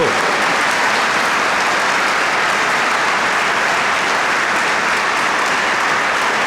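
A congregation at an Easter Vigil Mass gives loud, dense applause that holds steady and unbroken throughout, with no pauses or single claps standing out.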